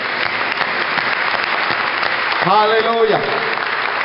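A church congregation claps together in loud, steady applause, filling the room, while one voice briefly calls out over the clapping.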